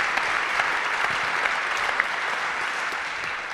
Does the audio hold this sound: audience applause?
yes